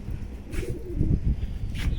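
Caged pigeons coo in soft, low, throaty bursts, close by and repeated, with faint higher chirps between them.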